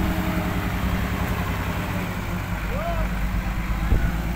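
A tractor engine idles steadily in the open near a dirt mound, a continuous low rumble running throughout with voices talking over it.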